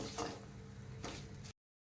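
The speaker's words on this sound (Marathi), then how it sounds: "टोमॅटोचे मिश्रण पण आपल्याला तेलामध्ये चांगलं परतून घ्यायचं आहे" Tomato mixture sautéing in hot oil of a tempering, a brief soft sizzle with stirring scrapes against the pan, faint and close, ending abruptly.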